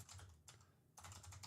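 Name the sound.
typing on a computer keyboard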